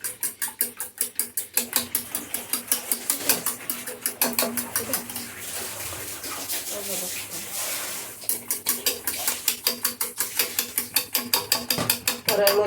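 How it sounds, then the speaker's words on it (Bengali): A fork whisks an egg in a bowl with rapid, rhythmic clinking strokes. The beating is steady and close, slows into a looser stretch midway, then resumes its quick pace. "কাটা চামচের সাহায্যে আমি ডিমটাকে ফেটিয়ে নিচ্ছি।"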